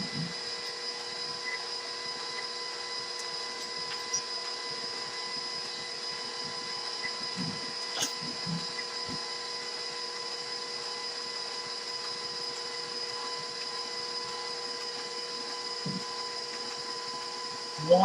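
A stand mixer creams slightly hard butter with a steady, moderate motor whine and hum, near and continuous, with a few soft knocks and a voice speaking briefly.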